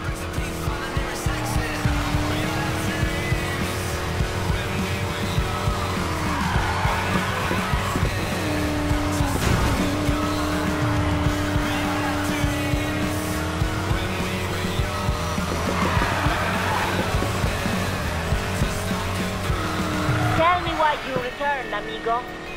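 Race cars in the Need for Speed Payback video game roar with a sustained, droning engine note, while tires squeal and skid at intervals over the constant motor sound.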